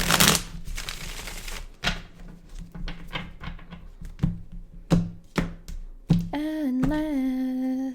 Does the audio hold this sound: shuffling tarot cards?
yes